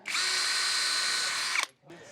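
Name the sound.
power drill pre-drilling holes in shed batten strip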